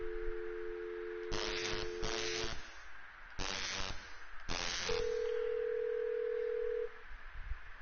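A telephone in the video game Thimbleweed Park gives a steady dial tone, then four short dialing tone bursts, then a held ringing or line tone, all clean and alone with no talk.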